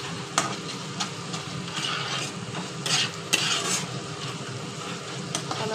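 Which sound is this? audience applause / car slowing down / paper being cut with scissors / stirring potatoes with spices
stirring potatoes with spices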